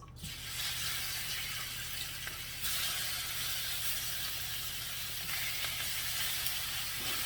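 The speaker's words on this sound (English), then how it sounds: "Gonna take this shrimp now. I'm gonna add it to the skillet." Raw shrimp hitting a hot skillet, giving a steady, loud broadband sizzle that carries on without a break and swells a little partway through.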